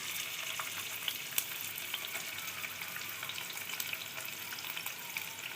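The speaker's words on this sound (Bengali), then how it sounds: "এই রান্নার আওয়াজটা যেটা হয় তেলের মধ্যে কিছু দিলে, আওয়াজটা কিন্তু খুব সুন্দর, তাই না?" Dried fish frying in a wok of plenty of hot oil, a steady bright sizzle and crackle running throughout with a few sharper pops, close and even in level, no voices.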